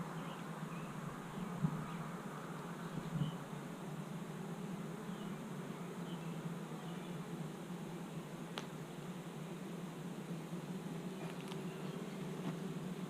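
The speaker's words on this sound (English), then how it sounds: "Look at all these bees up here now." Honey bees at a beehive hum in a continuous, even drone, many insects blending into a faint, steady buzz with a couple of soft bumps and no talking.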